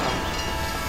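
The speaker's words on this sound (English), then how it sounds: "Oh, I'm gonna get hit by a train." A train rushes past in Team Fortress 2, a loud, dense rumble with hissing wheel noise filling the whole second without a break.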